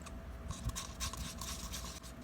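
Eyebrow bleach being stirred and mixed in a small dish, giving soft, quiet rubbing and scraping strokes in a steady back-and-forth rhythm, close and faint with no talking.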